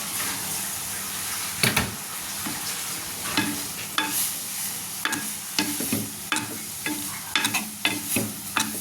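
Grated coconut being stirred into simmering jackfruit mallum in a pan, with scraping spoon strokes and soft wet sizzling in an irregular rhythm, close and fairly quiet, with no speech.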